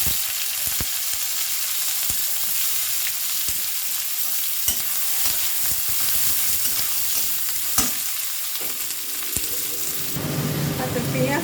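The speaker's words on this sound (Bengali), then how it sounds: "এই পেঁয়াজ কুচিটা এখন আমি দিয়ে দেব তেলে" Chopped onions hiss and sizzle steadily in hot oil, with occasional stirring clicks and scrapes close by and a brief louder clatter near the end.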